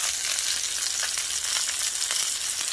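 Steelhead trout fillet sears in a hot skillet, giving a steady, close hiss of oil and crackling fat that continues without pause.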